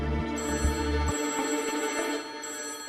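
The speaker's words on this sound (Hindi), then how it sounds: "ओ भाई, इस समय फोन कहाँ से आ गया?" An old 1990s landline telephone rings at home, repeated bursts of bright electronic trilling that stop partway, loud and close with no voices.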